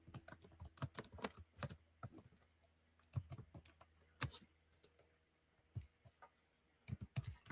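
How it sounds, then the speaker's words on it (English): Fingers typing on a computer keyboard, close and fairly quiet, in irregular bursts of clicking keystrokes separated by short pauses. "Let me type that in."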